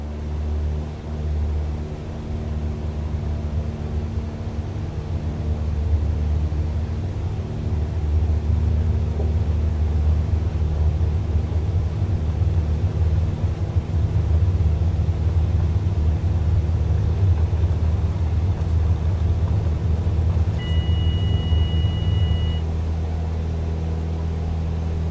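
A Cessna in Flight Simulator 2020 takes off from Narita's runway 34 right, its steady engine drone a loud, continuous low rumble that swells slightly as it goes, with no talking.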